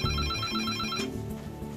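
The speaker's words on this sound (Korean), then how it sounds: "그 전화가 울립니다" Emergency telephone at an airport control centre ringing, a loud, close electronic ringtone with repeating bright beeping tones that stop partway through.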